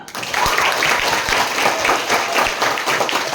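A group of students claps together at a school outreach session, producing a brief, dense burst of hand claps that is loud and close.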